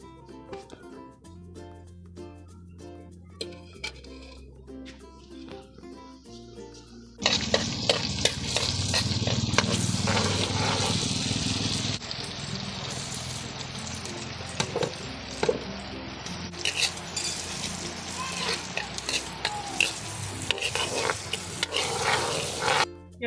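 Food sizzles and fries in a pan over a firewood fire, a steady crackling hiss that rises sharply partway through and stays loud, with stirring scrapes, faint music-like tones and a little background activity.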